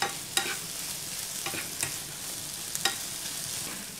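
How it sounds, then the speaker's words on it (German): Potatoes roast over the highest heat in a pan, a soft, continuous sizzle punctuated by several sharp scraping clicks as a spatula stirs them, quiet and close with no talking. "Und das Ganze röstet ihr jetzt am besten unter ständigem Rühren auf höchster Stufe schön an."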